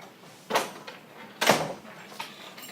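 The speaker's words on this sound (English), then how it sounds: "I can get the door closed." A door is pushed shut in a classroom or office, with two soft thuds a second apart, the second heavier, followed by faint rattles as it settles.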